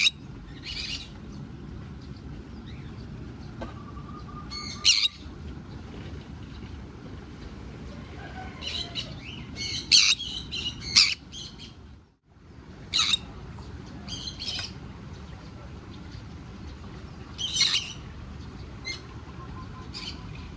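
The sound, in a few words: two birds squawking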